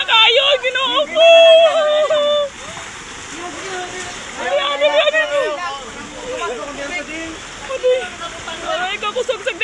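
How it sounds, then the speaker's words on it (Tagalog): Strong floodwater rushes and splashes during a typhoon in General Santos. The steady roar of water runs under loud, excited voices that talk and shout throughout. "kakusog sa baha"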